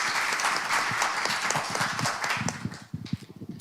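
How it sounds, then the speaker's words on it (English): A conference audience applauds the arrival of speakers, loud dense clapping that thins toward the end into a few scattered claps. "Please welcome them with a warm round of applause."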